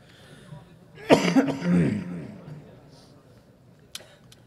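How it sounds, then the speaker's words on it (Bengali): A single harsh, close cough bursts out and trails into a throaty rasp, followed by quiet room tone and a brief click near the end. "এত যে কাশতেছে এরপর একটা পানি দেওয়া লাগে"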